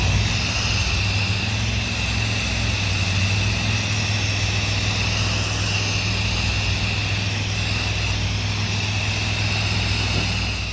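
A pressure washer rinses down a house, its engine droning steadily with a loud continuous hiss of spray, close and unbroken throughout with no voices.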